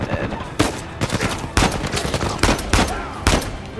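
Gunfire in Uncharted 4: a run of loud, sharp shots and short bursts at irregular intervals, close up, over constant background game noise.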